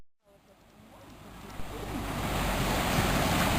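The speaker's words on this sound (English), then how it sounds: "we are here now at the sea, as you can see" Sea waves washing onto a summer seashore, a broad steady surf roar swelling louder over a few seconds, with wind buffeting the microphone.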